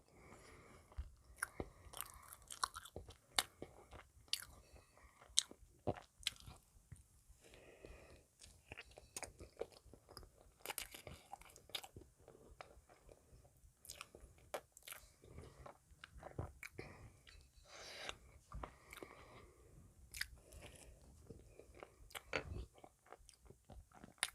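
Close-up biting and chewing of a strawberry jam-filled donut eaten as dessert, with soft wet munching and sharp crisp bites repeating irregularly throughout, quiet and intimate, with occasional faint whispered talk.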